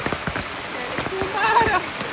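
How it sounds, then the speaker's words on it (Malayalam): Heavy rain pours down on a rain day outdoors, a dense hissing patter of drops striking surfaces, loud and constant, with a voice briefly speaking over it. "പടപടപടേന്ന് വെള്ളം വീഴുന്ന സൗണ്ട് മാത്രമേ ഉള്ളൂ"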